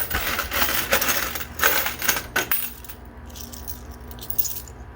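A burst of quarters clattering and jingling as they pour out of a coin pusher machine, loud and busy at first, then thinning to a few scattered clinks.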